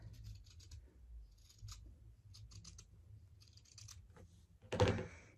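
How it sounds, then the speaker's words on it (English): Scissors cutting roughly around a circle drawn on fabric for a pinkeep, soft intermittent snips and scratchy blade strokes close up, ending with a louder thump of handling. "we're going to roughly cut around the circle"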